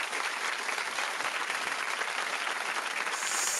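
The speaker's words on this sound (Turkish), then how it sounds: "Kardeşime bir kocaman bir alkış veriyorum" Steady, dense applause rolls through the whole stretch at an even level, a continuous crowd-like clapping texture with no voices standing out.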